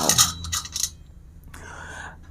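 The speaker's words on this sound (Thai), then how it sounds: "มาดูลูกเต๋าออร์เคิลบ้างนะคะ" Oracle dice clatter and rattle sharply a few times at the start, then settle into a quieter, fading rolling and tumbling sound.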